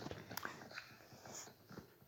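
Dog whimpering in a survival video game, faint soft whines and snuffly breaths in short bursts, fairly quiet and alone.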